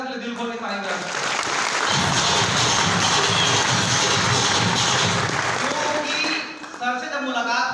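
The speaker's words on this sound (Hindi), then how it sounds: "एक बार दोस्तों संजय सर के लिए दिल खोल के ताली बजाएं।" An audience at a business program event bursts into sustained, dense applause that swells for several seconds and then tapers off, with a voice speaking over its edges.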